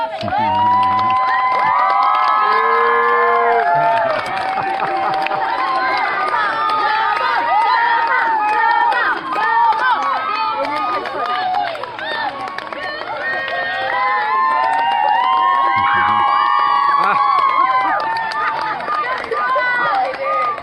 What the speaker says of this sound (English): We had all the kids here applauding a young man who hurt his leg.